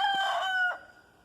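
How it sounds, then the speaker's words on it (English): A rooster crows once outdoors in a rocky garden, a clear, fairly near call that trails off, with no talk over it. "Oh man, that rooster."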